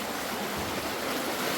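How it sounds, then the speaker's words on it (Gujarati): A stream runs through the Arwah Caves in Meghalaya, making a steady, continuous rush of flowing water with no pauses. "આ ઝરણું જે છે પાણી એ સતત ખળખળ વહેતું રહે છે."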